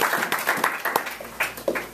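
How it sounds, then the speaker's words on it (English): Brief, scattered clapping from a small group, a handful of sharp hand claps in quick irregular succession. "Applause is appropriate."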